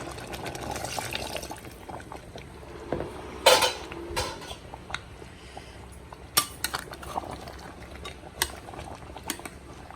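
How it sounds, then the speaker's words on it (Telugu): A lid goes onto a pressure cooker pot of mutton curry after water is poured in, giving sharp metallic clanks and knocks among quiet liquid sloshing and utensil sounds. It is close and without talk. "కొంచెం వాటర్ పోసి మూత పెడదాం"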